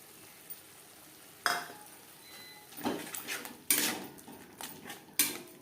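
A spoon scrapes and clinks against a pan while sour yogurt mixture is stirred into spiced masala with garlic, quiet scraping strokes with several sharper metallic knocks, faint sizzling beneath.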